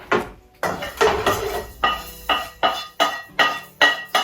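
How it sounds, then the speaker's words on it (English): Pestle repeatedly striking and grinding spices in a mortar for a butterbean and lentil curry, about nine regular, fairly close knocks with short grinding scrapes between them, no talking. "so now we're going to put this into the pestle and mortar"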